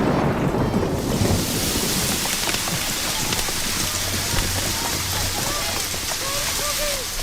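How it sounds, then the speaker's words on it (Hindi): Steady rain falls in a dense, broadband hiss, loud and close throughout, with a low rumble beneath that might be distant thunder; no one speaks. "ये तो बारिश हो गई।"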